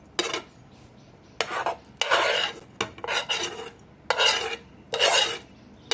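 Fried fennel, pepper, chilli, garlic and ginger stirred together in a cooled pan for a bitter gourd stuffing, heard as repeated bursts of close, gritty scraping and rasping that alternate with short pauses.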